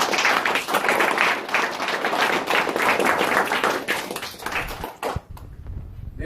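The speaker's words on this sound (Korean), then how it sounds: "우리 서로에게 한번 박수 한번 보내줍시다" Employees at a company's 24th anniversary ceremony giving a round of applause, loud dense clapping from a room full of people for about five seconds before it stops abruptly.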